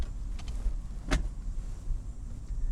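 A Mazda MX-5 convertible's foldable roof folds down while driving: a soft mechanical whir and a sharp click come over a low steady road and engine hum.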